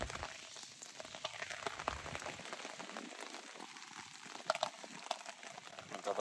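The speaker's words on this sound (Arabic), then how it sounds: "واقفين بالمطر" Rain falls beside a river in Turkey during a fishing trip, a dense hiss of drops pattering on surfaces, steady and fairly close with occasional louder splashes and no speech.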